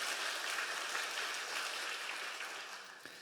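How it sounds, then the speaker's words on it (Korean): A church congregation gives a soft, continuous round of applause during a Sunday worship service, heard at a moderate distance and fading slightly toward the end. "다시 한번 하나님께 영광의 박수 올려드리겠습니다."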